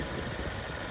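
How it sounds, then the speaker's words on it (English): A 2019 Kia Optima SXL's 2-liter turbocharged inline four-cylinder engine runs at a steady idle, giving a continuous close hum with no speech over it. "what we're looking at here is a 2-liter turbocharged inline 4-cylinder engine mated to a 6-speed automatic transmission"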